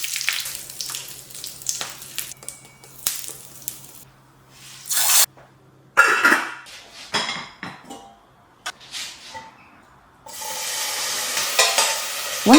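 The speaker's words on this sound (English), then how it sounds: "make vagarne with ghee, mustard seeds, curry leaves," Ghee tempering with mustard seeds, curry leaves, red chilies and hing for a home Onam sadya, with bursts of sizzling and spattering broken by pauses, stirring and clinks of a metal pan and utensils.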